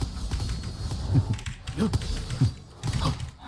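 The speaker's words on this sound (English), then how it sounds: "See how you can probably hear my keyboard?" Keys on a computer keyboard are pressed during a fantasy online game, giving a soft, irregular run of quiet clicks and clacks close to the microphone over a steady background hiss.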